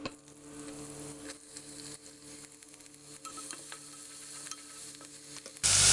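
Chopped ginger and garlic sizzle in hot coconut oil for a sausage curry, a continuous close frying hiss with light stirring clatter and no talking, ending in a sudden louder burst.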